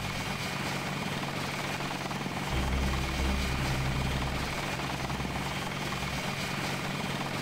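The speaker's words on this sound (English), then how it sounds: "This is a helicopter." In the video game Deus Ex, a helicopter at an airfield gives off a loud, continuous rotor and engine drone, with a deeper throbbing swell through the middle and no talk over it.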